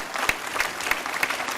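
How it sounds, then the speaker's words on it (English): Steady audience applause for a panel at a consumer VR conference, a dense wash of clapping with some individual claps standing out, sustained and fairly close. "Let's give our panelists a round of applause here."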